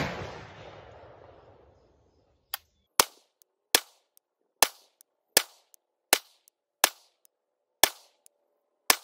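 Nine sharp rifle shots from a Galil Ace 5.56 crack out at a slow, steady pace on an outdoor range during ammo testing, each report clean and loud, following a fading rush of noise at the start.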